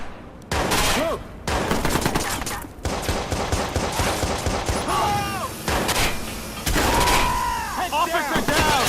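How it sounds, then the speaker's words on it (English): Heavy gunfire erupts in a Watch Dogs shootout on PS4, with rapid bursts of shots, ricochets and chaotic bangs over shouting voices, loud and continuous throughout. "Shots are fired!"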